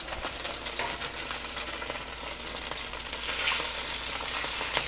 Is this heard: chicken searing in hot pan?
yes